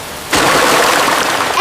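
A splash sound effect for a children's rain story: one sudden close burst of water that spreads into a long spattering wash, loud and alone with no talk over it.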